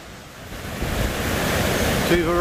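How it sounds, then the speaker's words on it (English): A large, magnificent riverside waterfall roars as a broad, continuous rush of falling water, loud and close, growing fuller over a couple of seconds with some wind buffeting the microphone. "we've arrived at the waterfall."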